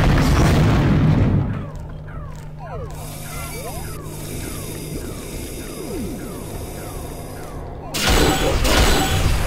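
A bomb explodes in the Unreal Tournament mod Operation: Na Pali with a loud boom at the start, then a stretch of layered game effects and music, and a second loud burst near the end.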